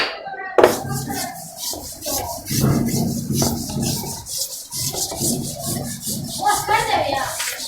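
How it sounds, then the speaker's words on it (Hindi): A hand or duster rubs writing off a classroom board with steady rasping strokes up close, while a voice and classroom chatter sound faintly underneath. "अब मैं अब रब कर रहा हूं।"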